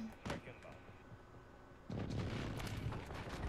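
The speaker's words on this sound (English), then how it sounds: "Enemy precision airstrike." Precision airstrike explosions in the video game Call of Duty, a few scattered booms followed by a sustained, loud rumbling barrage of blasts, with voices talking over the action.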